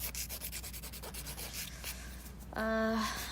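A nail drill with a medium carbide bit filing fingernails during a dip powder manicure gives rapid repeated gritty rubbing strokes, then a steady high motor whine rises near the end.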